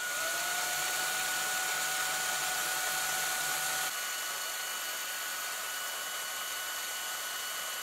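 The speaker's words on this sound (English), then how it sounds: "drill out these posts, get them ready for screws" A power drill whines at a steady high pitch drilling out metal posts on a 1:64 scale model car, then shifts to a slightly different tone partway through, running continuously with no voices.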